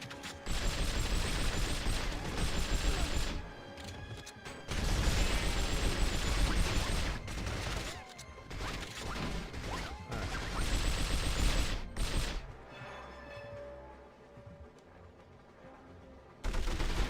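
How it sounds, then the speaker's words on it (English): Kalashnikov rifle fire in the 007 From Russia With Love video game comes in loud sustained bursts separated by brief pauses, ending with quieter mechanical game sounds before another burst. "Kalashnikov. Good old clunky Russian engineering."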